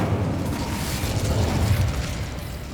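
Incendio fire spell cast in Hogwarts Legacy, a dense continuous roaring whoosh of flame with a rumbling low burst, loud and sustained for a few seconds.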